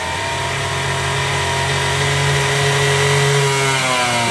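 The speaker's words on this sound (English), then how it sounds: "So we're running the engine here on the dyno, and what's happening is the water brake, it's a water brake dyno." A Galaxy 125 race engine runs on a water brake dynamometer, holding a loud, steady mechanical drone with rising harmonic whine as load comes on, close and continuous with no talking.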